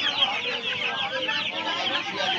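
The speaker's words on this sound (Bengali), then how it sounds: "এগুলো আছে 1 মাসের অস্ট্রেলিয়ান মুরগির বাচ্চা" One-month-old Australian chicken chicks at a busy hen market, clucking and chirping continuously and close by, with a dense overlapping chorus and faint talk in the background.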